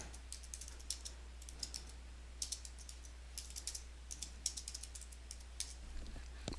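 Typing on a computer keyboard, with quiet, close key clicks coming in irregular bursts against a faint steady hum, no voices.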